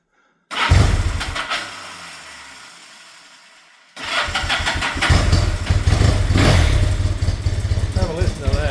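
Yamaha TX750 motorcycle engine cranks to life with a burst of noise, fades briefly, then catches and settles into a loud, steady running rumble close by.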